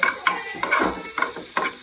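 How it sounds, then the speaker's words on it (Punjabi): Tadka spices for Maggi noodles sizzle in hot oil as a spoon scrapes the pan in quick, rhythmic strokes, close and fairly loud. "ਲਓ ਜੀ ਤੜਕਾ ਸਾਡਾ ਜਿਹੜਾ ਭੁੱਜ ਚੁੱਕਿਆ ਹੈ ਤਕਰੀਬਨ"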